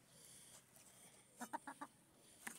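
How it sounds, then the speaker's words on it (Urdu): Chickens and a rooster pecking at scattered feed, a quick run of four short clucks near the middle, then one more cluck at the end, faint over a quiet background without talk. "یہ مرغی کھا رہی ہے اور مرغا بھی کھا رہا ہے"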